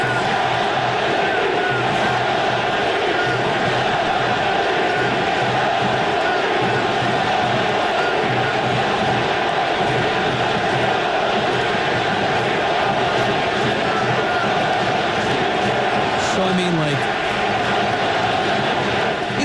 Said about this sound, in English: You heard the crowd go silent and now getting very loud at the Coliseum.